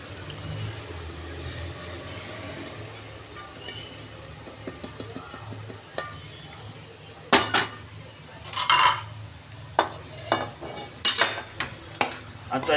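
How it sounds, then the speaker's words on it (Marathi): Sabudana with potato is tossed and sautéed in a pan, a soft continuous sizzle under scraping spatula strokes that grow louder and more frequent toward the end, close by. "आता हे असं खालवर करून घ्यायचं, म्हणजे परतले जातं."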